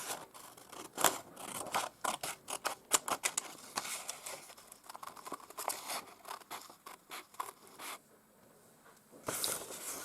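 Scissors snip through red card paper as shapes are cut out, a fast run of crisp, close, repeated cuts with short pauses and a brief quiet gap near the end.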